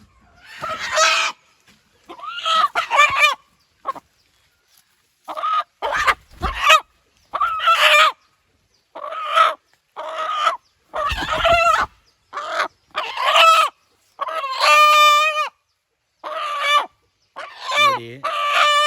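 A Nati Koli (Indian country chicken) rooster crows repeatedly in long strained calls, with clucking between them, close and clear against quiet pauses.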